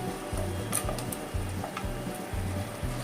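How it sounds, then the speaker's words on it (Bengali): Spice masala stirred and fried in a pan for a pea and paneer curry, a steady close sizzle broken by rhythmic scraping strokes of a spoon roughly every half second, no talking. "এবার আমি একসঙ্গে নাড়বো এটাকে মানে মশলাটা একটু কষিয়ে নেব ভালো করে"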